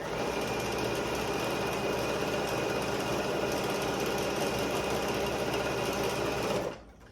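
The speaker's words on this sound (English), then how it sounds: "So I'm taking them over to my machine and just sewing down one side." A sewing machine runs steadily and close while stitching a quarter-inch seam along quilt strips, a continuous hum that stops abruptly near the end, with no one talking.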